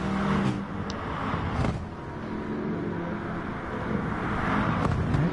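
Citroen GT2 race car engine in GT Sport, racing at Goodwood or Saint Croix, a steady loud roar of engine and road noise with slight swells, no talk over it.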